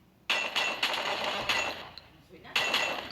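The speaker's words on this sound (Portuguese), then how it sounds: "o som da Mag 7 meio mudada" Mag 7 shotgun firing in the video game Free Fire, a handful of loud, sharp blasts at uneven intervals, each trailing a short decay, heard close up with no speech over it.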